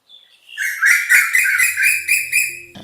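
An Asian koel (koyal) calls out loud and close, giving a bright rising whistled phrase of repeated notes that build in a quick series, heard on its own.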